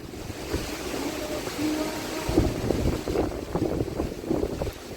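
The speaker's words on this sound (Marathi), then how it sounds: "पाणी पण खूप वाहत आहे, सगळीकडून पाणीच पाणी आहे फक्त" Heavy rushing water at Kelavli waterfall in Satara during monsoon rain: a steady, dense roar fills the whole clip, with surging, gusty swells toward the end and no voices.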